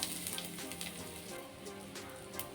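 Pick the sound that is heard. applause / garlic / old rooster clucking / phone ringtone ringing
garlic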